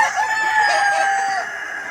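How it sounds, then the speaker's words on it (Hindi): A rooster crows loudly and up close on a farm, one long sustained call among chickens, with faint background clucking. "लेता हूँ अपने मुर्गे और मुर्गी"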